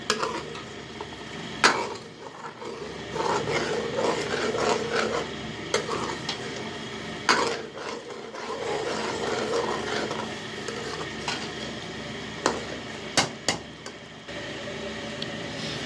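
Restaurant-style Karachi chicken karahi masala is stirred in a pan: repeated scraping strokes and metallic clinks of utensil against pan over a continuous low sizzle, moderately close.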